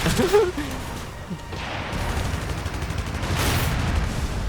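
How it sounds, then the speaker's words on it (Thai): Cannon fire in a Gundam video game, with a few sharp blasts and explosive rumbles followed by a sustained noisy roar, close and fairly loud. "ปืนใหญ่มันเป็นแบบแนวย้อยนะ เพราะฉะนั้นก็ต้องยิงแบบสูงสูงนิดนึง"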